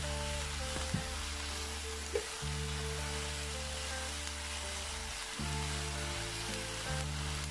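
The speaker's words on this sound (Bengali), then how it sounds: "আমি সামান্য হলুদ গুঁড়ো আর জিরে গুঁড়ো দিব, আর লবণটা দিয়ে দিব। দিয়ে অল্প কিছুক্ষণ ভেজে নিব।" Chopped vegetables fry in a pan with turmeric powder, cumin powder and salt for a vegetable roll filling, giving a soft steady sizzle with a few light stirring knocks.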